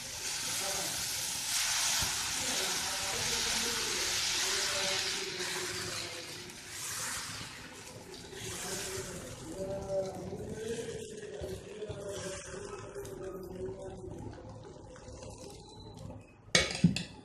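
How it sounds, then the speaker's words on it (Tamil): Sorghum dosa batter meets a hot griddle with a steady hissing sizzle, loud at first then easing, with faint kitchen clatter and a couple of sharp clinks near the end. "இப்போ நான் வந்து இந்த சோள மாவு தோசையை ஊற்றுறேன்."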